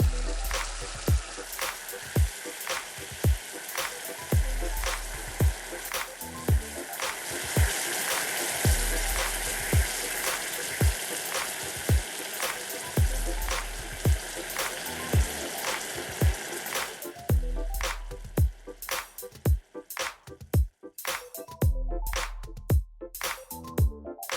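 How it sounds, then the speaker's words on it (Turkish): Steady crackling and hissing of giant homemade Pringles-style chips frying in hot oil, with regular sharp clicks or taps cutting through, then sparser bursts toward the end. "Cipslerin her iki tarafında kızartalım."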